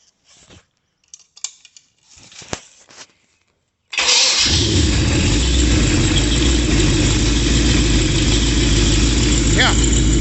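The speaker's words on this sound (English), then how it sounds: "we'll just start it up for a few minutes here and enjoy that wonderful noise that it makes of a big block" A big block 402 engine on a test stand cranks and fires after a few seconds of quiet handling sounds, then settles into a loud, steady, close rumbling idle that continues to the end.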